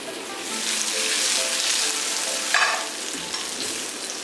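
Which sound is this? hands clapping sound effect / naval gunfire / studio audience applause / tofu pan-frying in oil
tofu pan-frying in oil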